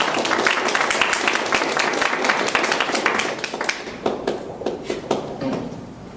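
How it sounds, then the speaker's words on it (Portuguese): An audience claps steadily in a dense, loud burst that thins into scattered claps toward the end, at a wellness training event. "me ajudassem a receber com uma grande salva de palmas"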